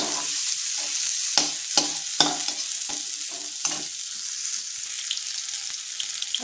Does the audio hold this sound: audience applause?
no